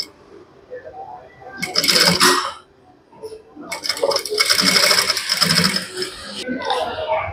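A sewing machine stitches a suit neckline in two rapid bursts, the second longer, with whirring mechanical chatter and short pauses between runs.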